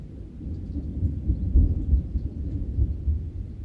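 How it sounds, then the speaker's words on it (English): A thunderstorm gives a low, drawn-out roll of thunder, a steady rumbling that rises and falls over several seconds, moderately loud and with no voices. "I don't know if you can hear it, but there's thunder."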